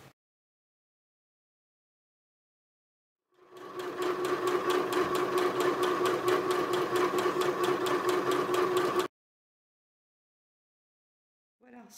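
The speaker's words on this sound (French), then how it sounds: "on fait une couture sur le bord et une deuxième sur le bord également" Sewing machine running a seam along a fabric edge for a shopping bag, a steady even burst of rapid stitching lasting about five seconds between silences, close and clear.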